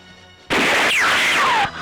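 A single loud gunshot blasts suddenly, its harsh burst lingering for about a second with a descending whistling whine before cutting off.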